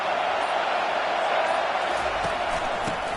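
A football stadium crowd roars steadily and loudly, a dense continuous wash of cheering with no clear breaks.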